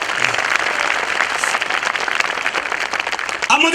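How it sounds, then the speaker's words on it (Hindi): At a motivational seminar, an audience claps loudly and continuously in a busy, crackling wash of hands. Near the end a voice rises briefly over the applause. "मैं धन्यवाद देना चाहूंगा 15 जनवरी 2005 के लिए जोरदार ताली"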